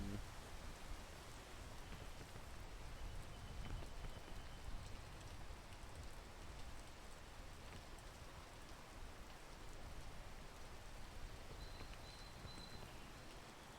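Steady rain falls in the climbing video game Peak, a dense, even hiss of drops on surfaces held at a low, constant level for the whole stretch.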